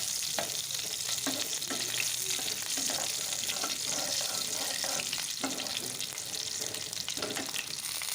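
Halved garlic cloves and green chillies are stirred in hot oil in a pan, giving a constant close sizzle with regular scraping strokes of the spatula layered on top.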